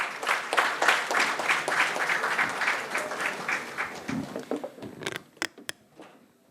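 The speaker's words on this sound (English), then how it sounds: "Can we welcome her with a good round of applause, please?" An audience at an awards and felicitation ceremony breaks into a dense round of applause that holds steady, then thins into a few scattered closing claps near the end.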